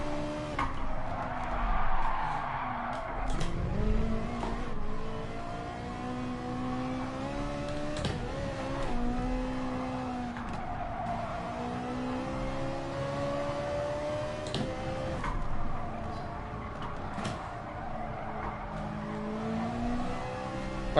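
A Ferrari 458 GT3 race car oversteers at Autopolis in a racing video game, its engine droning steadily while tires squeal and skid in bursts over about twenty seconds.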